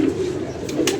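Pigeons coo in a low, throaty warble close by, steady and fairly loud, with a faint flutter near the end.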